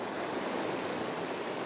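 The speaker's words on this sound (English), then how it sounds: "once I get these big waves, the ones that don't crash in" Sea waves wash against a rocky shore in a continuous, even roar of surf, fairly soft and uninterrupted.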